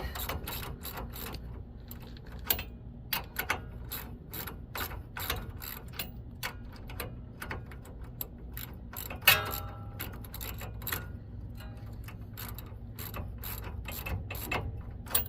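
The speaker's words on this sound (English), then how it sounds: "I'm going to just take this nut off and then put it back on just for a second." A hand ratchet clicks rapidly and continuously while removing a nut on the suspension of a 1997 Dodge Ram B2500 van, producing close, dense, rhythmic pawl ticks with a slightly louder knock midway.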